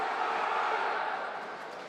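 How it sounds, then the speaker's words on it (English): Crowd at a women's roller derby world cup match between Australia and Switzerland, a dense, sustained roar of massed voices with chanting, steady and loud throughout, fading slightly at the end. "The crowd getting behind the Australian team. You can hear them chanting."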